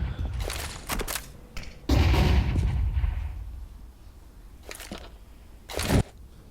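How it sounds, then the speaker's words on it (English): Gunshots in a Counter-Strike professional match, several sharp loud reports in quick bursts with a heavier blast near two seconds, close and without commentary. "m0NESY misses his shot."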